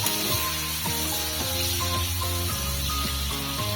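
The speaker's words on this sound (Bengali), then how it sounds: "রসুনটা হালকা ভাজা হয়ে গেছে" Ground garlic paste frying in hot oil in a pan for a Bengali prawn malai curry, giving a steady bright sizzle and hiss that runs continuously, with no talking and something faint and rhythmic playing underneath.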